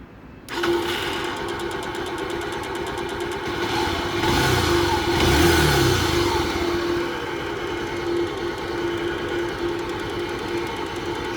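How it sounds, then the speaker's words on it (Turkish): A CG motorcycle engine idles after being restarted, a steady close putter with a fast regular firing rhythm that swells slightly in the middle as revs rise a little, then settles back. "Şimdi motorumu tekrar çalıştıralım."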